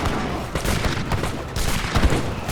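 Streltsy musketeers firing volleys in Age of Empires 3 Definitive Edition deathmatch battle, dense crackling bursts of musket fire overlapping in rapid clusters, loud and continuous with heavier booms near the end.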